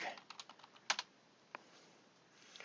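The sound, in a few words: typing "travel backpack" on a computer keyboard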